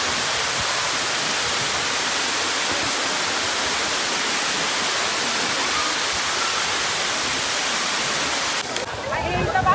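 A waterfall in the rainy season gives a loud, steady roar of rushing water that fills almost the whole stretch, then drops off abruptly near the end, where some faint speech can be heard.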